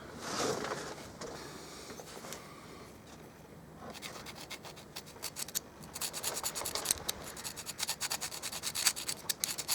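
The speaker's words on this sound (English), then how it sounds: "I'm going to clean up the back of this retaining ring where the handle comes through" Someone scrubs the back surface of a 1979 Suzuki retaining ring by hand, a faint, close, continuous scratchy rubbing that quickens into rapid strokes.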